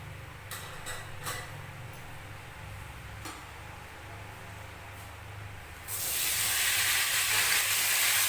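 Cumin seeds hitting hot oil for Punjabi salted rice, a steady close hiss that swells suddenly louder and brighter partway through, with no voices over it.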